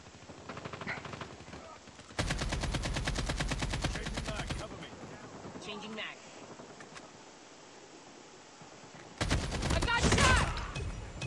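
Call of Duty Mobile gunfire landing headshots with an AK-47, with two long rapid automatic bursts separated by quieter stretches and a voice talking in between.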